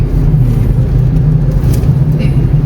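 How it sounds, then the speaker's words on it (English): Loud, steady road traffic noise from many vehicles passing on a busy road, a continuous low engine rumble close by. "So many vehicles are coming."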